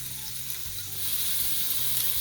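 Shallots sauté in aromatic rosemary olive oil, making a close, continuous sizzle that grows slightly louder midway, with faint stirring.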